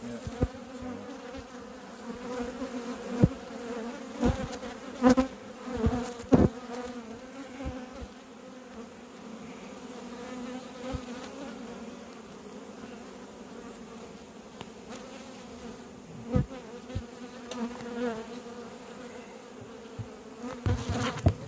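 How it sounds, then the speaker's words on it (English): Honey bees buzz steadily around an opened beehive, agitated after heavy rain, a dense continuous drone close by with occasional louder bees passing near, no talking. "so the bees usually aren't this cranky"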